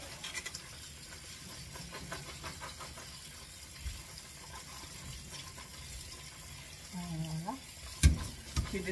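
Cold tap water runs steadily over vegetables being washed in a kitchen, a continuous low splashing wash with a brief louder knock near the end.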